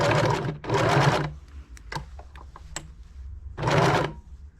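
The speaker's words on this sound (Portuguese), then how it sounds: "Eu costuro um tipo de costura reta." Sewing machine stitching a straight seam on machine-knitted fabric at a shirt neckline, with loud close bursts of rapid motor-driven stitching, broken by a pause full of small clicks and handling taps before another run.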